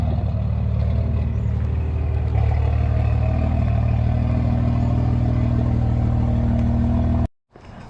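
A Toyota Supra Mk IV with an RB28 stroker engine runs loud and close at a steady, rumbling, low-pitched drone that rises slightly partway through. It cuts off abruptly near the end.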